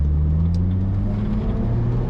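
A Lotus Elise sports car with a six-speed manual gearbox pulls hard under acceleration, its loud engine drone climbing steadily in pitch from close by with no voices over it.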